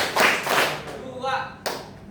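Hand clapping in a counting game, a few sharp claps close by, with a voice speaking between and over them.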